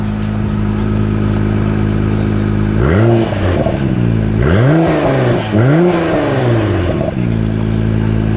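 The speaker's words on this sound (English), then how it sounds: "Let me get the exhaust note on the track" A 2017 Acura NSX idles with a deep exhaust rumble in track mode, then revs up sharply several times in quick bursts before settling back to idle; loud and close.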